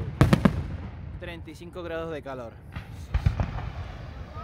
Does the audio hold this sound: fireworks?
yes